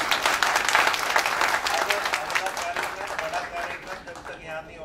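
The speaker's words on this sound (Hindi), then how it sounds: "एक बार जोरदार ताली आप सर के लिए।" Loud applause from an audience at a kavi sammelan poetry event at Central University of Haryana, dense clapping that stays strong before gradually thinning and fading toward the end, with some voices mixed in.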